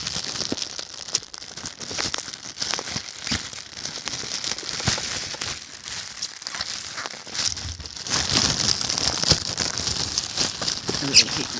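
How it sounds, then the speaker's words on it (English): Cardboard and plastic packaging of a boxed Dell E773C CRT monitor crinkles, tears and rustles in uneven bursts close by, growing louder and denser near the end, with a person talking at times. "I really hate ripping it"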